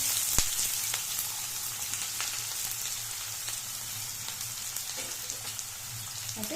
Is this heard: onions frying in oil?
yes